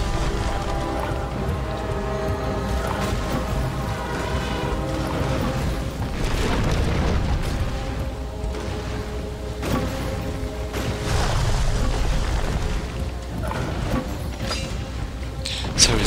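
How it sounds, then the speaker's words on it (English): Siege units batter and destroy castle walls in the Age of Empires video game, giving a dense, continuous wash of rumbling booms and crashing impacts at steady loudness, with no talk. "John Kirkwas is good at destroying walls, so let's do it"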